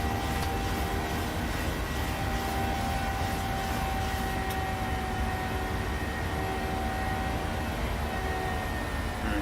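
Jet engines of a PMDG airliner climbing out after departure from LAX in Microsoft Flight Simulator, a steady loud broadband roar with a constant hum, continuous and unchanging, no talk.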